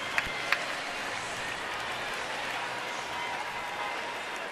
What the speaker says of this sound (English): You'll get quite a crowd reaction in a second.